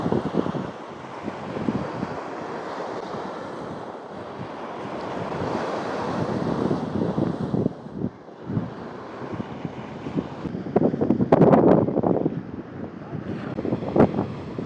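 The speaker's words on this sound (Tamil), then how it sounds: "கடலை எப்படி நுரகாக்கி கொண்டு வருது." Ocean waves foaming on a Sri Lankan beach, a continuous loud rush of surf with swelling breaks, heavy wind buffeting the microphone throughout.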